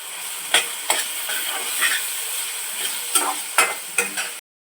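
Ground spices go into a hot pan for a Marathi-style ridge gourd curry, with a continuous sizzle broken by several sharp scraping stirs of a spoon against the pan, close and clear with no talk.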